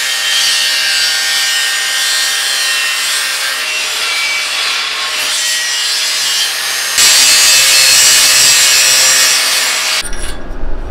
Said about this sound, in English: or the bandsaw, these things work great